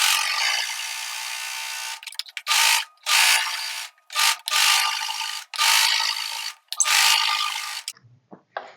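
A sewing machine stitches blouse pieces together in loud rapid bursts of mechanical clatter, several runs of stitching separated by short pauses, then brief faint handling noises at the end.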